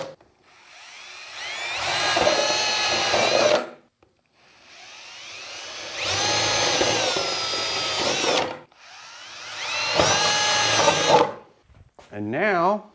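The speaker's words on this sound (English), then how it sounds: "now we're going to drill our holes in the corners" A power drill bores holes into the corners of a homemade box, three long whining bursts of several seconds each with short pauses between, loud and close, ending with a brief higher warble.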